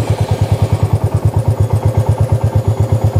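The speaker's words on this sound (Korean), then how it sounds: "시동을 켜고" A Royal Enfield Meteor 350 motorcycle engine runs close by at a steady idle, its single-cylinder thump pulsing in an even, rapid rhythm throughout, loud and alone.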